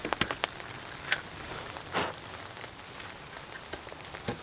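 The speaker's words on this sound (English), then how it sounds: "Because it's raining, you all get to stay here." Rain falling at a windy mountaintop campsite, a soft steady patter with scattered sharper drops hitting nearby surfaces, fairly quiet and with no voices.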